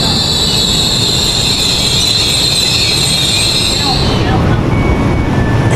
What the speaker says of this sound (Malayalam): റീജിയണൽ ട്രെയിനാണ്.